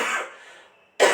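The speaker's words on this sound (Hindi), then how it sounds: "खांसी मेरी जरूर थोड़ी सी बढ़ गई थी" A single sharp cough or throat-clear bursts out close and loud from a man teaching a maths lesson, after a fading breathy sound and a brief near-silence.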